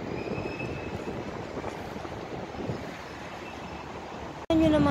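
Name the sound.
strong wind blowing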